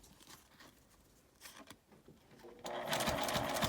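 Sewing machine stitching a zipper onto a small fabric toilet paper case, quiet handling and taps at first, then a dense close mechanical whir starting suddenly near the end and running to the finish.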